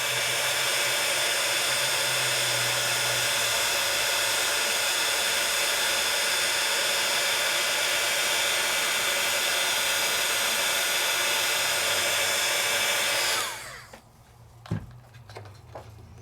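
A heat tool blows hot air steadily while melting embossing powder on a stencil, a loud continuous hair-dryer-like whoosh for about thirteen seconds before it switches off, leaving a few light clicks and taps.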